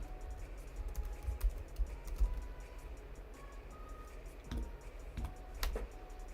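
Quick, light typing on a computer keyboard during a live stock market stream, with irregular key clicks and a few sharper taps over a quiet, low room rumble.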